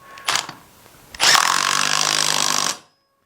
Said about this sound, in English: we can go ahead and grab our impact with a 9/16 impact socket